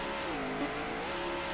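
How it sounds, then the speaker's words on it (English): Race car engines start up and rev in the Daytona USA arcade game, a loud, continuous engine drone with the pitch rising and dipping over a short burst. "Gentlemen, start your engine."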